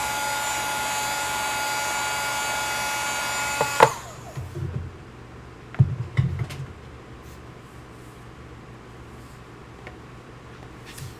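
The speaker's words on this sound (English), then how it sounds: "I'm going to hit that little heart with, and those 2 little hearts with the dryer." A hair dryer blows on painted hearts on an apothecary tag, a loud steady whir that cuts off after about four seconds, followed by a few light taps and handling clicks in a quiet room.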